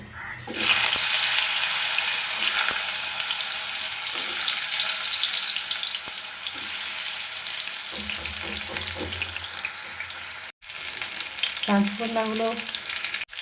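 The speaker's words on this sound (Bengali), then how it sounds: "তেল গরম হয়ে গেছে, কাঁচকলাগুলো ভেজে নেব।" Raw plantain pieces fry in hot white oil in a kadai, giving a loud, steady sizzle that fills the whole stretch, with a brief break and a faint voice near the end.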